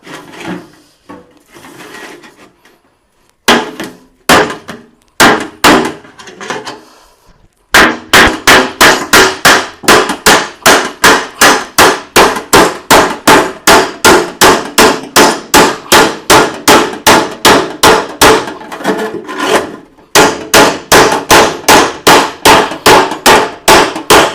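An empty tin oil can is cut open by hammering, a long steady series of sharp metallic clanging blows, loud and close, after a few scattered early strikes and a brief pause near the end.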